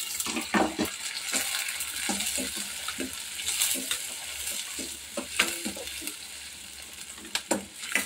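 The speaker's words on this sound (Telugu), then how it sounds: "ఆనియన్స్ పచ్చిమిర్చి 2 వేసుకొని కొంచెం లైట్గా ఫ్రై అవ్వాలి." Onions and green chillies fry in hot oil with a continuous bright sizzle, broken by repeated stirring scrapes and taps of a spatula against the pan, close and steady throughout.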